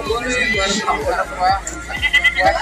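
Goats bleating at a goat market, several repeated bleats rising and falling close by, mixed with someone talking over them and busy crowd noise.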